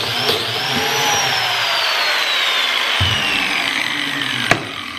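A DeWalt plate joiner whines steadily as it cuts a biscuit pocket into wood, the motor pitch sliding gradually downward, with a few short knocks and a sharp click near the end.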